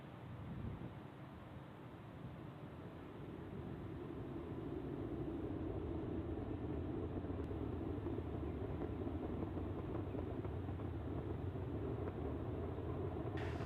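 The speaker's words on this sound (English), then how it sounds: "Falcon 9 has successfully lifted off from Launch Complex 39A at the Kennedy Space Center" A SpaceX Falcon 9 rocket launching from Launch Complex 39A at Kennedy Space Center in Florida gives off a steady, distant low rumble that swells slightly and holds without a break.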